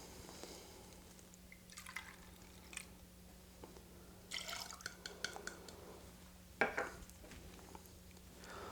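Whiskey poured into a glass for an Old Fashioned cocktail comes through as a faint, intermittent trickle and a few drips, with light clinks of glassware in a quiet room.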